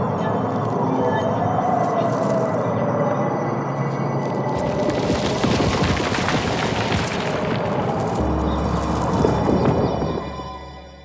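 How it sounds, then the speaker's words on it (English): Designed ambience for a windy, snowy forest: a continuous broad wind texture that swells through the middle and then fades away at the end, with no voices. "So in the video we see a snowy forest. It feels magical, it feels windy. Here's what the ambience sounds like on its own."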